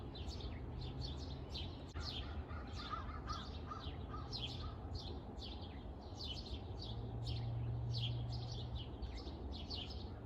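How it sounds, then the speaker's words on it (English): Many birds chirp and call outdoors at sunrise in repeated bright bursts, with an occasional harsher caw, over a low steady background hum. "listen to those birds"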